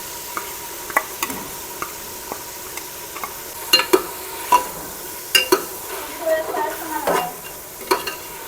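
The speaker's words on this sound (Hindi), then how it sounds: "ये क्रंची क्रंची हो जाता है ना, इतना मैं इसको फ्राई कर लेती हूँ" Crunchy crumbs frying in ghee in a pan, a soft steady sizzle with repeated sharp stirring scrapes and clicks, fairly close, and no talk.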